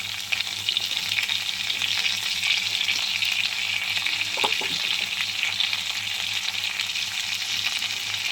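Cumin seeds, tomato and ginger fry in hot oil for a rohu fish and cauliflower curry, a steady loud sizzle running without pause throughout, with a brief stir or clink near the middle.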